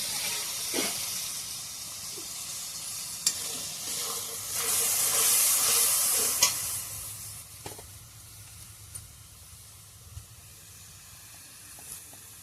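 Spicy jackfruit curry frying in a pan, a spoonful of water hitting the hot spices and setting off a steady hiss with a brief louder burst of steam partway through, over faint clinks.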